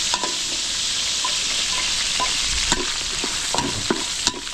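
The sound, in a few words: garlic, onion and potatoes sautéing in a pan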